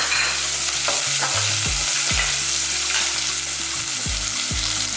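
Onions frying in a pan for drumstick soup, a steady loud sizzle with repeated stirring scrapes, heard close, while low tonal sounds run underneath.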